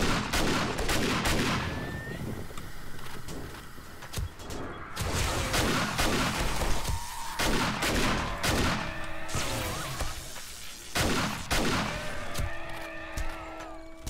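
Explosions and gunfire during a zombie horde night in the 7 Days to Die video game: repeated loud blasts and bursts of shots, some rapid, recurring irregularly throughout with no talk over them.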